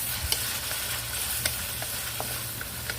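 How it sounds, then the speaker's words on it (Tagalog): Leftover food with oyster sauce and bay leaf frying in a pan and being stirred, a steady close sizzle broken by scattered light scrapes and taps of the utensil. "Then mix lang natin yung lahat para mahalo."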